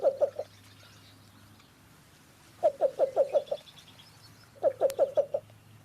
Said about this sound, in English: let's take a listen to the cuckoo cooing call of the male least bittern